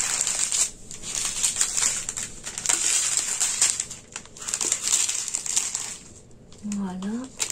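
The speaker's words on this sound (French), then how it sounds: "Si vous entendez du bruit, c'est Pix qui est en train de s'amuser avec un carton" A pet rustles and crushes a cardboard box, giving a steady run of close crinkling and scraping noises with brief pauses, while someone speaks briefly at the end.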